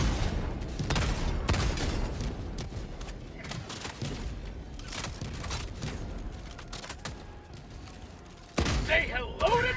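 Sentry turrets firing in Helldivers 2, a dense sustained barrage of rapid booming shots and thuds running throughout, with a voice talking over the din and a sharper burst near the end.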